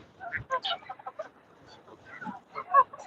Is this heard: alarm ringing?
no